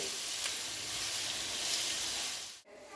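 Fenugreek seeds sizzle in hot oil for biryani, a dense, even frying hiss that holds steady close up for a few seconds before cutting off abruptly near the end.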